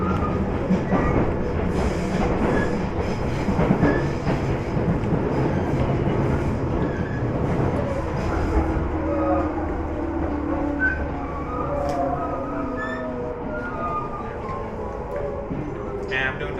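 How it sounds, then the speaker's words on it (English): Passenger train on the Mount Fuji line in Japan, a steady rolling rumble of wheels on rails heard from on board, with people talking over it throughout. "I'm doing the Mount Fuji train, man."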